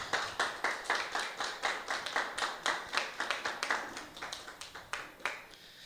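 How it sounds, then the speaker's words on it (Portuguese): A church congregation stands and claps in praise during an evangelical sermon, a quiet, rhythmic series of sharp hand claps in a steady beat lasting several seconds, with no voices. "E pode aplaudir bem forte ao Senhor Jesus."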